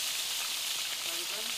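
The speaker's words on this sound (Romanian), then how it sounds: "adane prăjite în suc propriu și adane la plită." Adana kebabs fry on a hot griddle plate in their own juices, a steady close broadband sizzle running throughout with faint background voices near the end.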